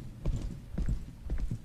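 Footsteps in the Roblox horror game The Mimic: three pairs of heavy, thudding steps at an even pace, fairly close and muffled, with no voices.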